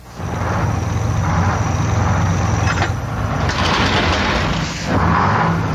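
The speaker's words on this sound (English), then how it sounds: "This is the sound of the most dreaded vehicle on the road today, the tow truck." A tow truck's loud, steady engine roar rumbles throughout, with a brief rising whine midway and mechanical clanks toward the end, close and sustained with no voices.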